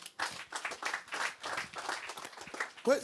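Church congregation at a healing service clapping and applauding together, a dense, moderately loud patter of many hands filling the room, with a voice faintly mixed in near the end.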